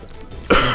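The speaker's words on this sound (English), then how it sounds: "I'm sorry for coughing into the mic." A single loud, close cough blasts into the microphone after a brief quiet moment, harsh and breathy, from a person with a common cold.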